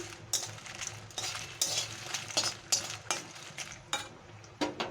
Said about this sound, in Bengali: আমি এখানে প্রায় পঞ্চাশ গ্রামের ওপরে কাজু আর শুকনো লঙ্কা ফ্রাই করে নিচ্ছি